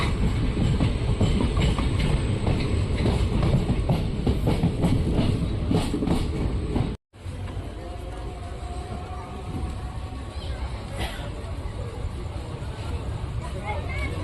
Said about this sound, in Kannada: ಕಡೂರು ರೈಲ್ವೆ ಸ್ಟೇಷನಿಂದ ಹೊರಟಿದೆ ನಮ್ಮ ಟ್ರೈನು